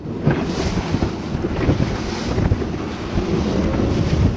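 A bass boat with hydraulic jack plates running through rough water and big waves, a loud, constant roar of motor, wind buffeting and splashing spray without a break.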